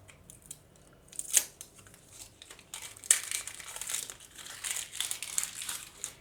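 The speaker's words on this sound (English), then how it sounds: "So let's just remove this packaging." Plastic packaging crinkles and crackles as it is peeled off a Soundcore Aerofit 2 earbuds charging case, with sharp rustling bursts and continuous close-up crumpling.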